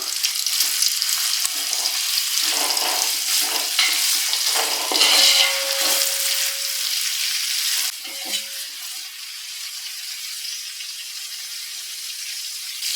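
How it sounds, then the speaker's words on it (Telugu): Eight sliced onions for a 2 kg chicken biryani fry in a pan with a steady, loud sizzle and occasional stirring scrapes. The crackle eases slightly toward the end, and no one speaks. "ఈ ఆనియన్స్ ఇవన్నీ మనము కలర్ చేంజ్ అయ్యే వరకు ఫ్రై చేసుకుందాం"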